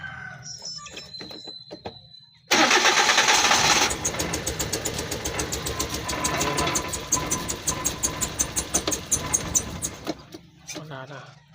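A Suzuki Transformer motorcycle with a no-start, misfiring, low-power fault suddenly fires up after quiet murmuring, running loud and rough with an uneven knocking pulse for several seconds before cutting out.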